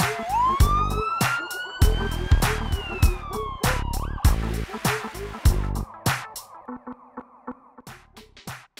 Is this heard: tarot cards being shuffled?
no